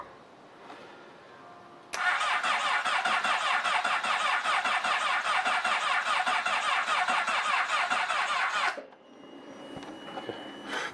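A Honda CBR600RR motorcycle cranking on a weak battery in cold weather, a loud rapid rhythmic starter whir lasting about seven seconds that never catches, with quiet background before and after.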